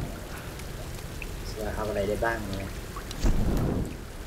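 Heavy rain in the Tomb Raider video game hisses steadily throughout, with a low rumble like thunder near the end, while someone talks over it.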